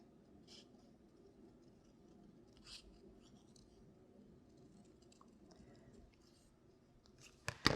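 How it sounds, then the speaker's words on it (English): Scissors roughly snip out a paper penguin for a light-up Christmas teepee card, producing faint, scattered crisp cuts in a quiet room, ending with a brief louder rustle. "Roughly cut him out with a pair of scissors"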